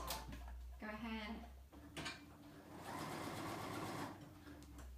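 A home sewing machine runs a long 5 mm basting stitch along a dress seam, its motor whirring close and steady through several separate runs with short pauses between them.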